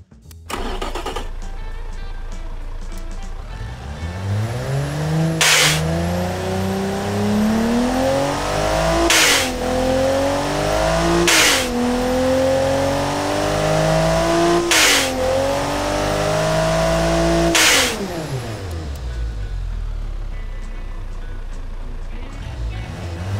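Engine of a reliable inline-six turbo car build in a video game revving repeatedly, loud and near, climbing in pitch through several gear-like rises with sharp pops between them before settling back to idle.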